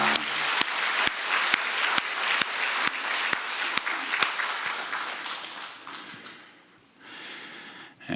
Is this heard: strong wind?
no